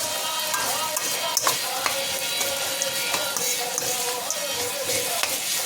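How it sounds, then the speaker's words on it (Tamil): Onions being sautéed in a pan for godhumai rava upma give a steady, close sizzle and crackle, broken by occasional scraping stirs, with no talking over it. "வெங்காயம் நல்லா வதங்கிச்சா?"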